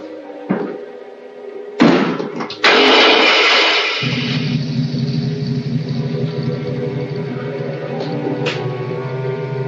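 A car door slams with a couple of heavy thumps, then a car motor starts and settles into a steady, close, droning idle that runs to the end.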